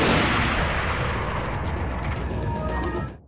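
In Resident Evil 4 with the Life in Hell mod, a heavy, booming gunshot rings out, its loud roaring tail fading steadily over a few seconds before cutting off.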